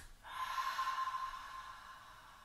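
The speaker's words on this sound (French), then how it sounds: "on inspire par le nez, on serre la glotte et on lâche l'expire" Ujjayi breathing, one long exhale pushed through a constricted glottis, a soft, close, hissing rush of air that fades gradually, heard alone.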